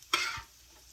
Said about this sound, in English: I'm going to give this a good mix here